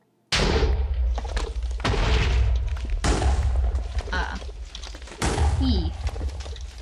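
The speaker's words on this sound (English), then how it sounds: "Cause small explosion." Erosion tool blasting terrain in Minecraft, heard as a run of loud, close explosive booms, several bursts in a row with sharp onsets and short breaks between them, alone with no talk.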